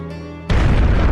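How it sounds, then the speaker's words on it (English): A sudden loud explosion in a visual novel game cuts in after a quiet musical tone, a single broad booming burst that stays loud and rumbling to the end. "I rushed to the door at the sudden explosion."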